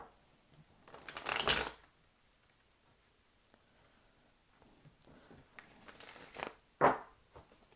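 A deck of tarot cards is shuffled softly at close range, with a quick riffling burst early, quiet handling in between, then a few more brisk flutters and a sharp snap near the end.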